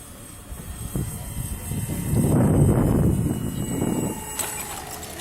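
Electric model airplane taking off from a runway at a club fly-in, a whirring motor and wheel rumble swelling briefly up close, then fading as it lifts off.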